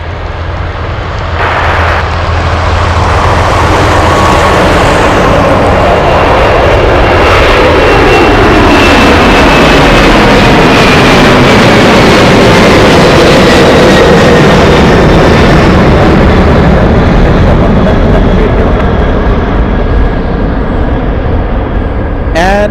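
An aircraft taking off at Anchorage airport, a loud, close jet roar building into a sustained rumble whose pitch slides downward as it climbs away, filling the whole stretch.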